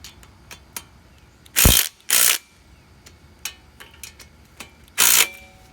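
Ratchet wrench loosening the exhaust bolts on a pit bike, three loud bursts of rapid clicking close by, separated by quieter ticks and handling noise.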